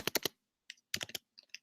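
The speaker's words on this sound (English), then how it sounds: "Try typing again." Typing on a computer keyboard: a quick burst of three crisp key clicks, a pause, then another short flurry and a few lighter taps, close and isolated against silence.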